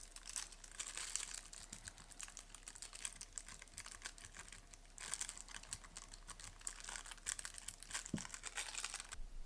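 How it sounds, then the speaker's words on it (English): Gold foil is rubbed into the teeth of a plastic prop with a rounded-over chopstick, giving a faint, steady crinkling and scratching that swells in a few louder patches. "using a chopstick that I've kind of rounded over, it kind of actually helps because you need to get the gold foil sort of rubbed down into the teeth"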